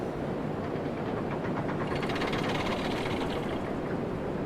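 A freight train with cabooses rolling along in the railway game RailRoads Online, a steady loud rumble with rhythmic clattering of wheels on track that holds throughout, no voices.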